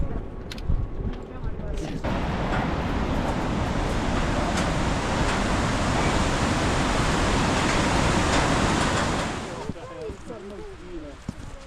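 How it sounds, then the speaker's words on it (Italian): Mountain waterfalls rush loudly in a steady, broad roar close by, starting abruptly after a couple of seconds and then dropping away near the end, with a few faint sounds before and after. "Nel frattempo però ci godiamo le cascate."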